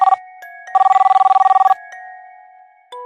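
A telephone rings with a bright electronic trill, one short burst and then a longer run of rapid pulses, close and clear, followed by a quiet pause and a brief tone.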